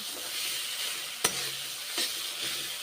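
Potol (pointed gourd) pieces sizzling with spices in hot oil, a continuous hiss with a few clear scraping stirs of the spatula spread through, heard up close and without speech.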